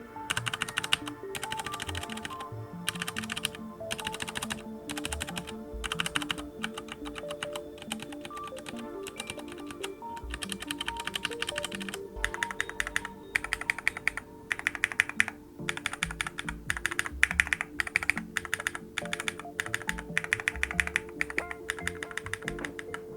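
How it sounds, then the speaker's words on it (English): Continuous brisk typing on a Glorious GMMK 2 75% mechanical keyboard, dense overlapping keystrokes at close range with no talking, steady and uninterrupted throughout. "Each key doesn't have any horrible pinging at all."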